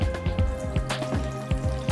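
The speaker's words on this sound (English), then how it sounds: "now I'm going to pour this water into the water reservoir" Water is poured into the reservoir of a green wall tapestry irrigation system, giving quiet trickling splashes and drips in a brief, uneven rhythm.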